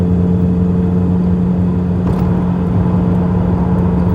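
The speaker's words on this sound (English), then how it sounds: "I've got a really nice, lovely, awesome sounding exhaust in the background to keep me entertained as well." A 40-year-old Vauxhall Cavalier accelerates with a loud, steady exhaust drone and a strong low hum that holds constant throughout.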